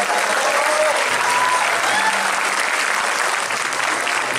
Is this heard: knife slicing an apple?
no